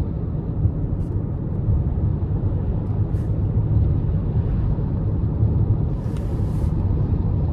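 2023 Toyota Crown XLE Hybrid accelerating under light throttle in normal mode, a steady low road and engine rumble heard from inside the cabin, fairly loud and continuous with no talk.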